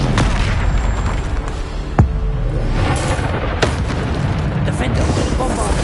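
Bombarda spell explosions in Hogwarts Legacy, heard as muffled booms and sharp bursts amid constant game combat noise, with a couple of distinct cracks standing out and chatter mixed in.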